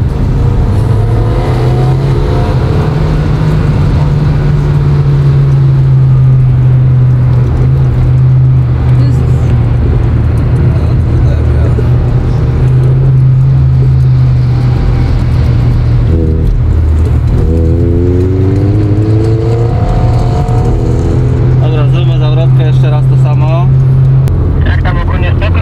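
A car accelerates to overtake another during a filmed car chase, its engine droning loudly and rising in pitch, while people talk over it throughout.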